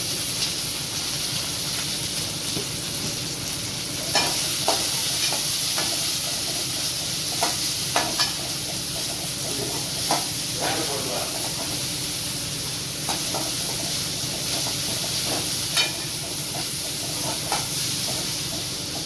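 Onion frying in hot oil with spluttered cumin seeds, a continuous hissing sizzle with scattered pops and clinks of a stirring spoon, heard without talk.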